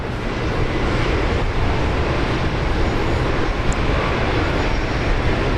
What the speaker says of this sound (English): We've got Air New Guinea about to line up on 19 right.